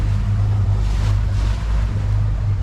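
Constant low engine drone of a boat cruising on the ocean off Key Largo, Florida, mixed with rushing wind and water noise, steady throughout.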